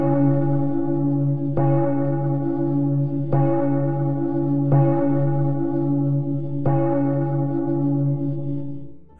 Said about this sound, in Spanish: Las campanas no dejaban de sonar.